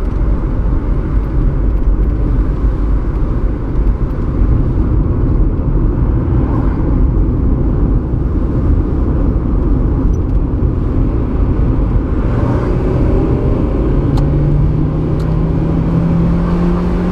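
A car heard from inside while being driven, a steady low engine rumble and road roar filling the whole stretch, with a faint rising whine near the end.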